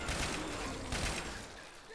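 Dense, continuous gunfire in Left 4 Dead 2 on the Dark Carnival map, a rapid rattling fusillade with bursts that blur together at moderate loudness.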